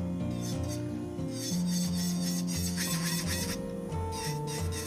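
An electric nail drill with a customized bit shapes a stiletto nail, a quiet, steady whirring hum with shifting pitch as the bit grinds and rubs against the nail surface in short passes.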